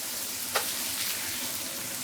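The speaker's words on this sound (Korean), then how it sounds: "기름에 튀겨질 지글지글 이렇게 하셔야 바삭한 전을 드실 수 있는 겁니다" A clam pancake (jeon) sizzles steadily in plenty of hot oil, an even close crackling hiss that continues throughout, with one brief sharper pop near the start and no talking.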